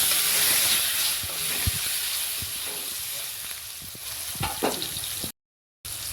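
Chopped tomatoes sizzle loudly in hot oil, a constant crackling hiss with occasional clinks of a utensil stirring the pan.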